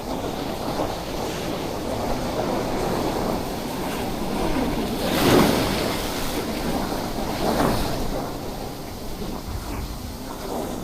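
Ocean waves and gusting wind roar continuously at a rocky shore fishing spot as the tide comes in, with a couple of louder surges breaking close by and no talk.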